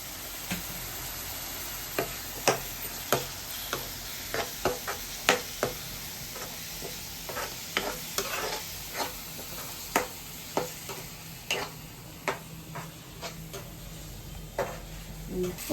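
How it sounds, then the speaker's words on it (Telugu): Onion paste fries with ginger garlic paste, turmeric and salt in a pan for paneer curry, giving a steady soft sizzle broken by irregular clicks of a spoon stirring against the pan. "ఆనియన్ పేస్ట్ అయితే బాగా ఫ్రై అయిపోయింది"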